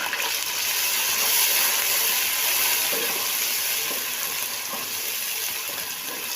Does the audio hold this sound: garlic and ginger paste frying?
yes